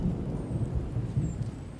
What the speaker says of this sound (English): Oh, I love summer rain.